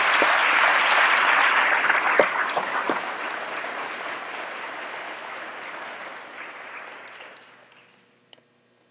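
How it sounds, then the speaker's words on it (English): Audience applause at a county inauguration ceremony sounds as a dense, loud clatter of many hands. It gradually thins and fades out, ending with a few last scattered claps. "So I'd like to give you all a round of applause."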